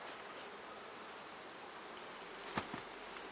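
A steady, dense hum of many bees in an opened beehive fills the air, with a couple of brief knocks or clicks near the end.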